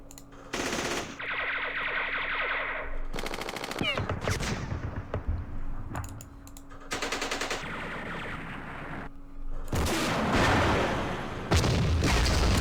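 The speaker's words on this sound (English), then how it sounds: "Use our machine guns" Machine gun fire from the Campaign Series Vietnam wargame rattles in several sharp bursts, mixed with single gunshots and booming impacts, loud and close with brief gaps between volleys.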